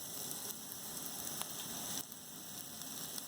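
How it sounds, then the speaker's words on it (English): Chilies sizzle softly in a pan with ginger and tomatoes, a faint steady crackle and hiss with scattered small pops. "I'm going to add in my chilies"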